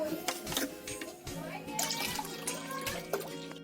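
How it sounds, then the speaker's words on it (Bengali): Half a litre of water poured into thick, boiling milk in a wok for making chhena, a steady splashing trickle running the whole time under an ongoing voice. "আমি এখানে হাফ লিটার মতন আবার জল দিয়ে দেবো"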